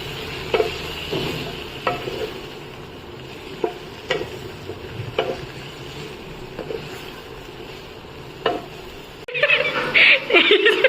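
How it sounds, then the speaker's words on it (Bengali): Vegetables frying in oil with salt and turmeric, a low steady sizzle with periodic stirring knocks from a utensil, growing into a brighter, louder crackle near the end. "এই তেলেই আমি সমস্ত সবজিগুলো হালকা নুন হলুদ দিয়ে ভেজে নেবো"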